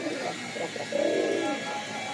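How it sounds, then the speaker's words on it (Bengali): Male pigeon cooing close by in a loft kept for Rajshahi high-flying Giribaz tumbler pigeons, with low rolling coos that swell in the middle over a steady background hum; no talk. "বেশ কিছু কবুতর আসছে, বেশ কিছু কবুতর আছে"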